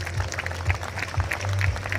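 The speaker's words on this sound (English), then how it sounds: "Can we have some more claps for these all-rounder students?" An audience at a school live event claps steadily for all-rounder students, a dense, continuous round of applause lasting the full two seconds under a low hum.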